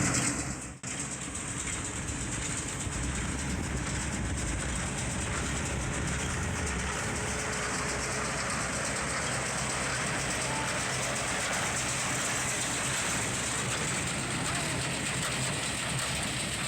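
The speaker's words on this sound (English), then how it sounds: "the mower is picking up the grass in the row and it's kind of fluffing it" Hay baler picking up cut grass in a field for organic square bale hay, a continuous rumbling, rattling machine noise with a clattering rhythm, close and steady, a brief knock near the start.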